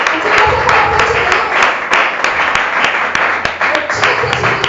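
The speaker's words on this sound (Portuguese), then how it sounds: "Aplaude os céus pela vida dele." A church congregation applauds loudly during a service, with dense, sustained clapping from many people close by, sharp individual claps poking through the steady wash and a murmur of voices underneath.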